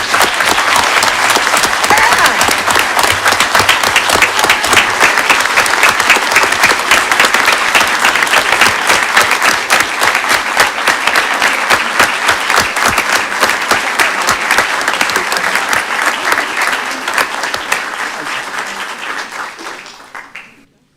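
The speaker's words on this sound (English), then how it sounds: "We've held our applause long enough." Loud sustained applause from a crowd at a city commission meeting honouring the new chief of police in Springfield, Ohio, dense clapping lasting about twenty seconds before tapering off.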